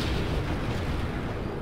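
A grenade blast in Call of Duty Modern Warfare 3 multiplayer: a dense, loud, rumbling roar that fills the whole moment without break.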